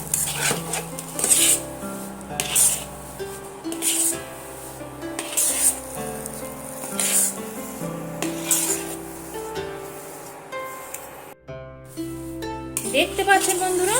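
Semolina and ghee being stirred in a pan for sujir barfi, with the spoon scraping and clinking against the metal at a steady rhythm and a soft sizzle, all under continuous background music.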